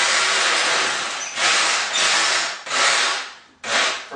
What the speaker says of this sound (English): So I'll drill